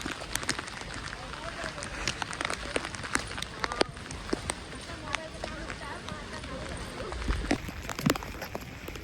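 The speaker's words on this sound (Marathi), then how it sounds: "तर पाऊस बघा की खूपच लागतोय" Dense, steady heavy rain patters all around on the way up Karnala Fort, with scattered sharp drops hitting close by and a voice or two faintly underneath.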